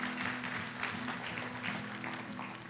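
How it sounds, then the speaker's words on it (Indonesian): Congregation applause in a church service, a dense steady wash of many hands clapping at a constant level for the whole stretch, with a held tone running underneath. "Berikan tepuk tangan bagi Tuhan kita"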